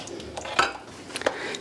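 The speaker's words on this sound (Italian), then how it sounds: "Pentolino d'acciaio" A small steel saucepan handled in a home kitchen while cooking rice and beans, with a few light metallic clinks and knocks, one sharper clank near the middle, quiet and close.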